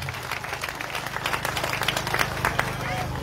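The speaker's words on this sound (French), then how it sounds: "Allons Acclamez applaudir." A church congregation claps and cheers during worship, a dense patter of many hands at moderate distance with voices mixed underneath.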